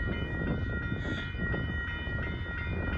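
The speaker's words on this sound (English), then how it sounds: "we got some trains coming in right now." A northbound Union Pacific grain freight train passes at Dittmar Road in Austin, Texas, giving a steady rolling rumble with a sustained horn tone throughout, heard at moderate distance.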